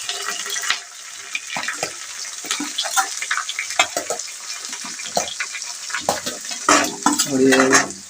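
Onion frying in a pan, stirred with a utensil, makes irregular scraping and clattering sounds over a light sizzle, growing busier and louder toward the end.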